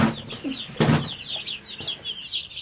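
High chirping peeps repeat throughout, a busy cluster of about a hundred baby chicks calling close by, with a couple of lower clucking bursts mixed in.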